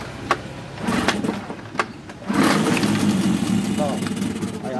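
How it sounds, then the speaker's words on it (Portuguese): A Suzuki 15hp outboard motor with a dry carburetor is cranked with a few sharp pull-start bursts before it catches and settles into a steady, close running drone, with someone talking over it. "Ele vai demorar um pouco pegar, porque ele tava com o carburador seco."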